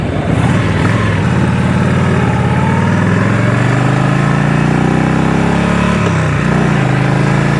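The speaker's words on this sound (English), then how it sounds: "I should not be going this fast on this bike." A 1986 Harley-Davidson Liberty motorcycle engine runs hard while being ridden, a loud, close, continuous rumble with wind noise and a brief dip in revs before it pulls again.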